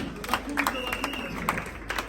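A church congregation bursts into clapping and applause after a sermon, a brief burst of scattered claps heard fairly faintly beneath a preacher's voice and crowd murmur.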